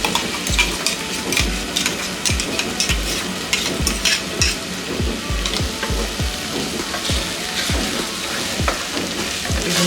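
Onion masala sizzles steadily in a pan as tomato puree is stirred in, with a regular run of close scraping strokes from the spoon over constant frying hiss; no one speaks.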